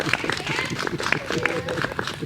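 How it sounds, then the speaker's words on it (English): An audience at a Rutgers University Class of 2020 graduation gathering applauds for the graduate's mother, scattered clapping mixed with cheers and voices, moderately loud and busy throughout. "Can we get some applause for Mom?"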